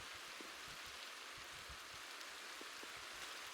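Rain falls in a modded Minecraft world, a faint, even hiss with soft scattered patters and no speech.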